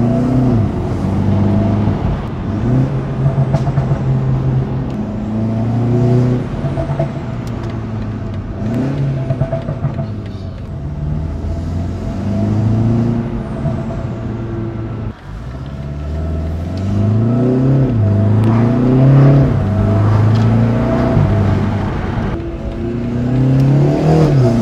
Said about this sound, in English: give you guys an exhaust clip. Sounds pretty deep and throaty